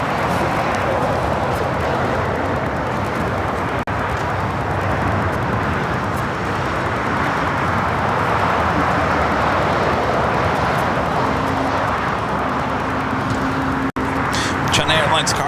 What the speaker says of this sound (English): This is Villani's 1719 taking off to Guadalajara on the A320.